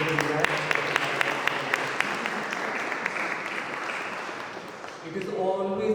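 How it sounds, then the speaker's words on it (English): Moderately quiet applause fills a hall during a speech at a cricket challenge cup event, a steady patter with a few sharper claps, tapering off before a voice begins speaking near the end. "can you please have a round of applause?"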